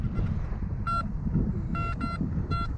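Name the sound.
Anfibio metal detector signal tone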